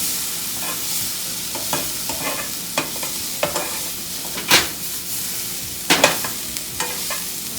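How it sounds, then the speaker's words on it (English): Garlic and ginger sizzle steadily in a pan while a utensil stirs them, with scattered scraping clicks and a few sharper knocks against the pan over a soft frying hiss. "we're going to go ahead and stir it up a little bit"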